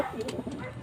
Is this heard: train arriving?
no